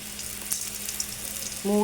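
Fennel seeds tempering in hot oil for Bengali shukto, a bitter mixed-vegetable dish: steady faint sizzle and crackle close by, swelling louder as the seeds hit the oil near the end, with no talk.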